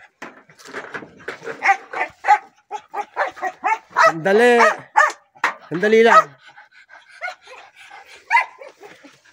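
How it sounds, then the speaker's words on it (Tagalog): Dogs bark and whine in short yips and a couple of longer howling whimpers, close by, mixed with brief spoken words. "yung aking mga alagang aso"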